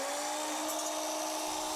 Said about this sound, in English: Drill press needs chuck engaged.